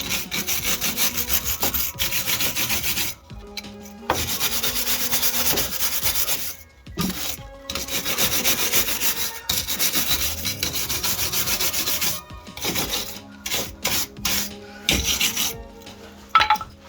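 A wire brush scrubs built-up oily brake dust off a wheel hub in steady, loud back-and-forth strokes, broken by a few brief pauses, with no one talking.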